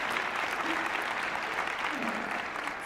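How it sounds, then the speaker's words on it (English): Sustained, dense applause from an audience at a multicultural graduation celebration at Eastern Michigan University honoring graduates, steady and fairly loud throughout with a few faint voices mixed in. "So let's give them one more round of applause."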